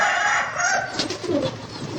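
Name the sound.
pigeon cooing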